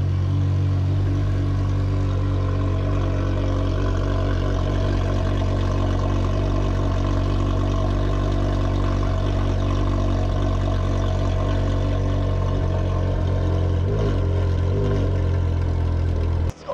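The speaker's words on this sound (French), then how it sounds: "Fais écouter un petit peu le bruit derrière" A Porsche Carrera GT engine idles at the exhaust, a loud, steady low rumble with strong even harmonics that holds throughout, briefly wavering near the end before cutting off.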